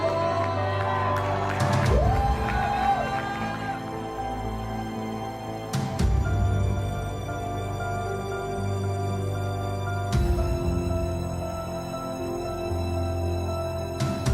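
A crowd cheers and shouts with whoops throughout, continuous and fairly loud, with a few voices standing out, at a large LGBT gathering as more people arrive.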